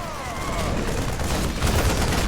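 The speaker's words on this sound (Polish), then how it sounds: "Załatwię go wybuchem kinetycznym." A kinetic blast and gunfire in the video game StarCraft 2, a loud, dense burst of rapid shots and booming impacts that lasts the whole moment.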